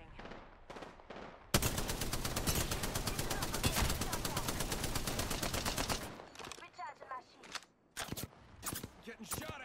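Gunfire in the Apex Legends video game: a few quick shots, then a long, loud automatic burst lasting several seconds, followed by scattered single shots and short volleys close by.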